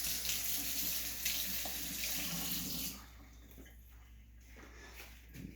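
Water from a kitchen tap runs steadily over a coffee machine part being rinsed, a broad continuous splash that drops to a quieter trickle partway through, with small clinks near the end.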